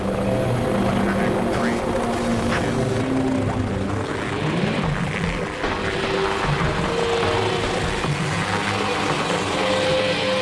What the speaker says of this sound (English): We launch the vehicle on the route, and it basically autonomously takes off and autonomously flies the entire route as programmed